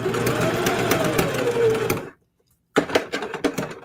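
Singer HD sewing machine stitching through several layers of fabric for letters, a fast steady mechanical whir and needle chatter, then a short pause before the stitching starts again in quick bursts, close and clear.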